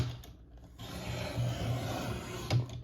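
Brief steady scraping rasp of a trimmer cutting through a 12 by 12 inch sheet of scrapbook paper, one continuous close stroke lasting a couple of seconds, fairly quiet.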